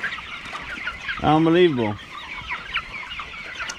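Young 26-day-old broiler chickens in field pens give a loud drawn-out squawk in the middle, with softer clucks and chirps around it, and a man makes a brief remark.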